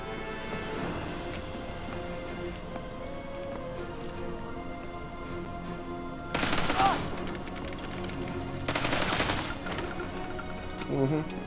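Submachine gun loaded with armor-piercing rounds in Sniper Elite 5, fired in two short bursts several seconds apart over a steady ambient game backdrop, with a brief third rattle at the end and no talking.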